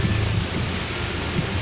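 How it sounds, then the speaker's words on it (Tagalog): Heavy rain pours steadily with a deep, rolling rumble of thunder underneath, a dense, loud roar with no voices. "Pero napakalakas ng ulan, buti na lang nagsasakyan kami."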